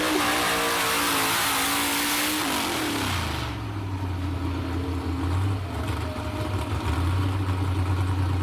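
A truck's engine revs hard at a pulling event, loud and close, with a high strained whine that drops sharply in pitch into a deep, rumbling roar.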